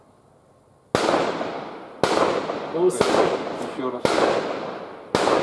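Shots from a VPO-209L rifle fired outdoors, five loud sharp cracks roughly a second apart, each with a long fading echo, as people talk briefly between them.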